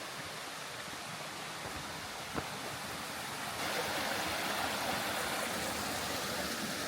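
A mountain stream on the Annapurna trail rushes steadily as a broad hiss of flowing water, growing louder and closer partway through, with no voices.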